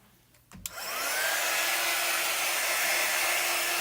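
A hair dryer drying a craft project clicks on after a faint quiet moment, then blows with a loud, steady rushing whine that holds for the remaining few seconds.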